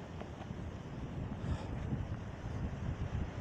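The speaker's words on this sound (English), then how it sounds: "Check out the waves crashing down here" Waves crash on the shore at Hamlin Beach State Park, a steady low rumbling wash of surf mixed with wind buffeting the microphone, with no talking.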